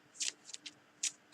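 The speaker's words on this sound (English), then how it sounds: "My deck is pre-shuffled, so don't need to be really thorough here." A tarot card deck being shuffled by hand gives quiet, close bursts of papery riffling: several short brisk flurries separated by brief pauses.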